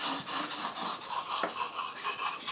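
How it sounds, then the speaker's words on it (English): An ESEE 5 knife blade stroked across a whetstone, a rhythmic rasping scrape repeated in even back-and-forth passes, close and alone. "I'm just trying to put a better edge on it and taper it down for sharpening the edge"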